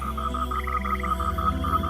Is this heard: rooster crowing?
no